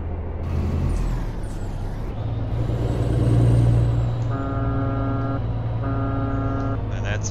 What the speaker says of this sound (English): that's my sorry excuse for a horn in this game